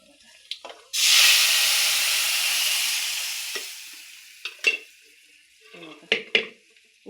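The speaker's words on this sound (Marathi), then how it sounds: "बघा असं बेसन टाकायचं हरभऱ्याच्या डाळीचं. आणि त्याच्यात असं करायचं हटायचं" Gram flour being stirred into dal palak in a cooking pot: a sudden loud rushing burst that fades away, followed by scattered metallic clinks and scrapes of a utensil against the pot.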